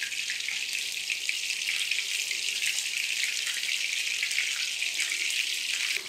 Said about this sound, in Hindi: मीडियम फ्लेम पे इसे हम फ्राई करेंगे।